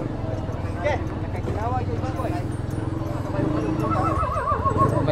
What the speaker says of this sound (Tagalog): Sa mga drama lang sa radio dati ako nakakarinig ng boses na kabayo.